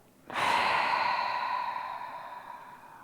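One long, deep exhale during a mom and baby yoga class, a soft airy breath out that starts abruptly and slowly fades over a few seconds, close and alone.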